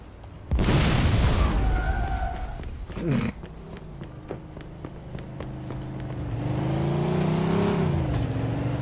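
A grenade blast in Mafia 2 bursts out loud and sudden, followed by a second crashing impact and then a steady rumbling drone, like an idling engine, under the game's ambience.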